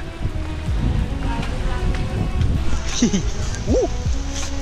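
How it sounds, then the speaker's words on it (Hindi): Steady rain pours down in a constant hiss, with a voice talking faintly beneath it. "बहुत तेज वाली बारिश है"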